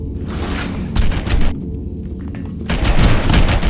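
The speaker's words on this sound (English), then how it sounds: "Here, have some grenades." Heavy booms and bursts of gunfire in the video game Red Faction 2, loud and continuous with a brief quieter lull in the middle before the rumbling blasts resume.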